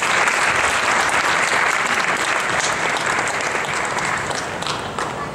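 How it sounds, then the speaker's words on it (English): Crowd applause in a high school gym at a girls' basketball senior night, a loud sustained wash of clapping from a large audience that holds steady and eases slightly toward the end. "let's give the Men's Association and Mr."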